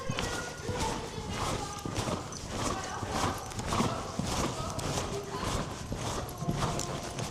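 A ridden horse's hooves clip-clopping in a steady rhythmic gait, close and continuous, with people talking faintly underneath.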